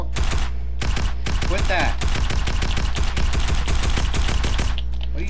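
Rapid automatic gunfire rattles in steady bursts in a creative-mode video game battle, loud and close, with brief pauses between volleys and a voice speaking over it.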